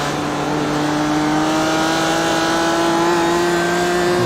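A BMW race car engine in a sim racing game holds a steady, loud drone with a sustained harmonic whine, nearly constant pitch throughout, unbroken by any talk.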